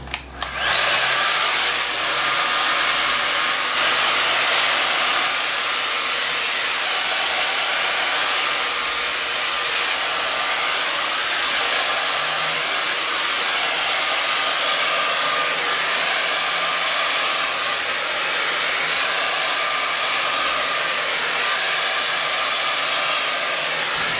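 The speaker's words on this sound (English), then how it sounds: "now I just want to blow dry it some more. So I'm going to put it on high now." A hair dryer set on high blows hair dry with a loud, continuous close-up roar and a high whine that holds steady throughout without a break.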